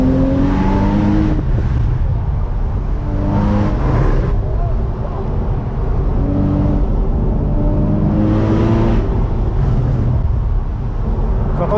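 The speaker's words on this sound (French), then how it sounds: "Vous entendez ce son à l'échappement?" A car with its exhaust valve open downshifts via paddles, a loud, close engine roar with repeated rising and falling pitch sweeps under a talking voice throughout.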